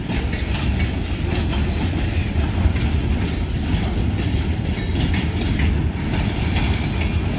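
A freight train slides its cars in to drop off empties, giving a steady, dense rumble of rolling wagons with faint clickety-clack wheel noise that stays loud and even throughout.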